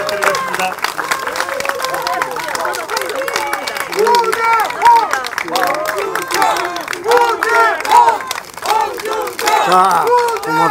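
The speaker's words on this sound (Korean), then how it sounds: "여러분 큰 박수 부탁드리겠습니다" Korean political rally for Hong Joon-pyo's Daegu mayoral bid, where a crowd applauds and cheers loudly and steadily, with shouting voices mixed into the dense roar.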